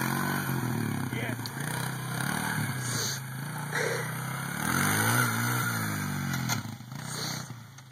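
A four-wheeler ATV engine revs and drones continuously throughout, rising in pitch around the middle, with people talking over it.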